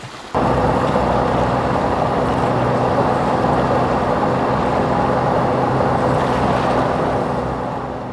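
A boat motors across open water with a steady, loud rush of engine drone, wind and splashing spray that starts suddenly and holds constant, easing slightly at the end.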